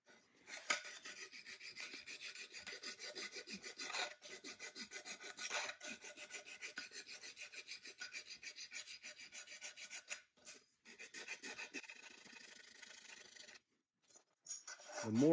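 Hand sanding of Vendo 81 Coke machine parts: a steady, close rasping rub repeating in even back-and-forth strokes for most of the stretch, with a couple of brief pauses near the end.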